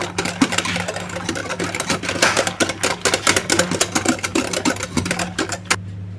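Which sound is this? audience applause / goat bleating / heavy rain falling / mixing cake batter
mixing cake batter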